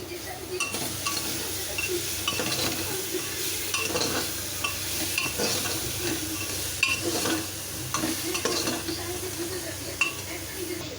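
Grated ginger and chopped tomato with ground cumin and coriander sauté in a pan, a constant sizzle layered with repeated scraping and clinking of a spoon stirring against the pan, close and without talk.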